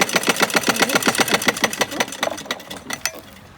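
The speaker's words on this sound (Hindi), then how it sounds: "इसकी हम सिलाई लगाएंगे" A sewing machine stitches a Laddu Gopal outfit with a fast run of rhythmic, close needle clatter that slows and thins out toward the end.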